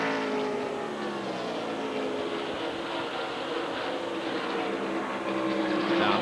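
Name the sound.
NASCAR stock race car passing by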